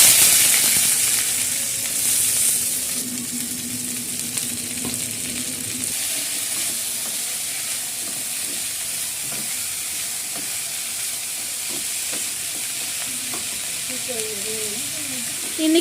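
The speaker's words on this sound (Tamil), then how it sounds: "இப்போ பாவக்காய் போட்டு வதக்கிக்குங்க" Bitter gourd frying in oil in a pan gives a loud, continuous close sizzle and hiss for the whole stretch, with faint stirring taps throughout.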